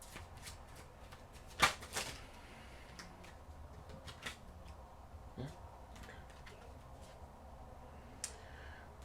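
A deck of oracle cards is shuffled close up and fairly quietly in quick riffling bursts, the loudest near the start. Softer taps and card flicks follow at irregular intervals.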